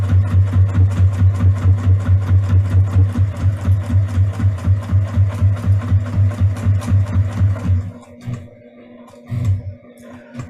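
A sewing machine stitching a fabric pot holder runs steadily and close for about eight seconds with a fast, even mechanical rattle, then stops, leaving a few faint handling sounds.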